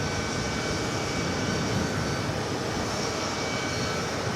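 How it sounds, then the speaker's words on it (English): Neos Boeing 787 Dreamliner taking off from JFK runway 22 right for Milan: a continuous dense jet-engine roar, steady and fairly loud throughout, with no talk over it. "Next takeoff is that Dreamliner heading to Milan. Flight 789 at Neos."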